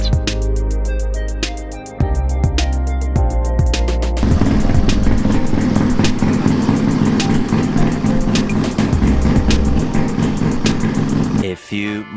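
A motorcycle engine revved repeatedly to heat it up during a diagnosis of excess piston travel, loud and close, with a sharp throttle blip at the start, a steady high-rev roar through the middle and a cut near the end, voices talking over it.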